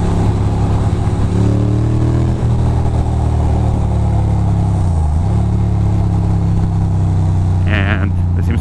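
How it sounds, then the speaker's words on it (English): Road traffic on Route 3 in Nutley, New Jersey, heard from inside a moving car: a steady loud engine drone and road rumble with shifting tones as the car speeds up and slows, and a voice briefly talking near the end. "there seems to be a little bit of traffic over here"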